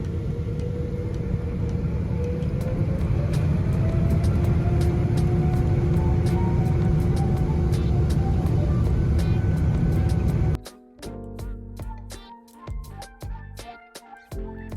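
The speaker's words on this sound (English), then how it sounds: "Airplane takeoff is just an amazing experience to partake." Loud, steady engine roar with a slowly rising whine, as from inside a British Airways Boeing 777-200 taking off from London, cutting abruptly after ten seconds to quieter rattling cabin noise.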